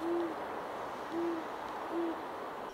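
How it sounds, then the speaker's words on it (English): An owl in a tree at a campsite gives three low, clear hoots at even intervals, fairly near, over a soft background hiss. "And it was an owl."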